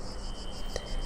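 Steady pulsing insect buzzing, a dry rhythmic trill repeating evenly and fairly loud close up, with a brief soft tap partway through.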